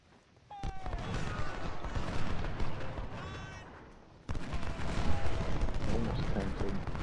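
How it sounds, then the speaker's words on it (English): Musket volleys and artillery fire from the Civil War video game Ultimate General at Second Manassas, with sharp cracks, a heavy boom near four seconds and sustained rolling gunfire throughout. "One of these skirmishers can get a volley off into that gun battery."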